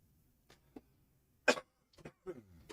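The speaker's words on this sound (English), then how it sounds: "Got a little cough." A single sharp cough stands out amid faint scattered clicks and brief mouth noises in a quiet room at a foosball championship.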